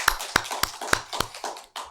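A church congregation claps during a Sunday service: a short, sparse run of sharp individual claps in a loose rhythm, close and moderately loud, fading toward the end.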